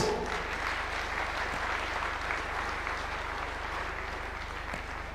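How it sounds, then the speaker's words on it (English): An audience at a Nairobi urban forum event applauds in a sustained, even wash of clapping that tapers slightly toward the end, with a low hum running beneath. "A round of applause for the report."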